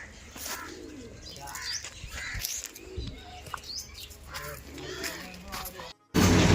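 Pigeons cooing and calling close by, a busy flock with overlapping soft coos and throaty rolls, faint voices in the background and a sudden loud noise burst at the very end.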